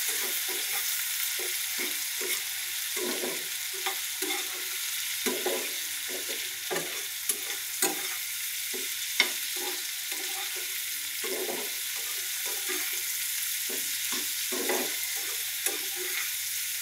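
Dried ribbonfish (shutki) is stirred together with fried onions in hot oil. A steady, even sizzle runs underneath, broken by regular scraping strokes of the spoon through the pan, with no voices.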